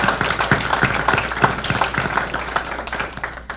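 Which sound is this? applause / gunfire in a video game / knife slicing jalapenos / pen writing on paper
applause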